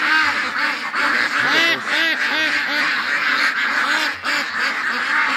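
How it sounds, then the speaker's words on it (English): Several ducks quack loudly and close by at a swamp, a dense run of overlapping honking calls that continues with no gaps as the flock approaches. "Oh, the ducks are all coming towards me."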